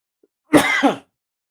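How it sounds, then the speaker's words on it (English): A single harsh cough with a short second burst, close and fairly loud, alone in an otherwise quiet moment. "you'll have to excuse my cough"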